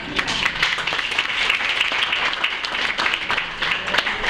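A stand-up comedy audience applauds continuously, a dense wash of many hands clapping at steady loudness with no voices standing out.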